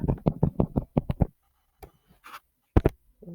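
A marker writes a formula on a board: a quick run of short, squeaky strokes, a pause, then a few more scratchy marks nearby.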